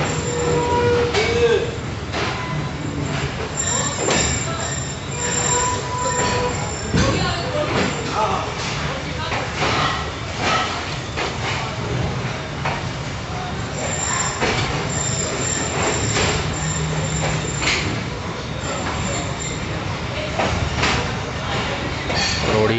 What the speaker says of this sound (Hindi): one up Khyber mail express सुबह एग्जैक्टली ऑन टाइम 6 बजे रोड़ी जंक्शन से